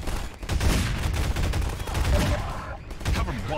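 A Half-Life 2 Synergy turret fires in steady rapid bursts, loud and continuous, with players' voices talking over parts of it.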